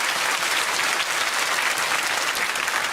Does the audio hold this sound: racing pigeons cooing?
no